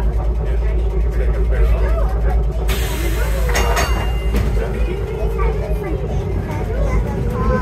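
A Fort Collins streetcar trolley rumbles steadily along, a low continuous rolling and motor drone with a brief brighter hiss partway through, and a person's voice running over it.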